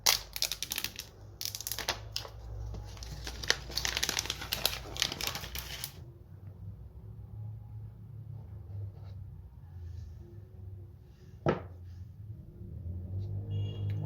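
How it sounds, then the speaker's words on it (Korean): Unboxing an iPhone 12 Pro in Graphite: a dense burst of crinkling, scraping packaging handling up close for about six seconds, then quieter low rumble with a single sharp click or tap partway through. "제품 개봉 시작해 보겠습니다"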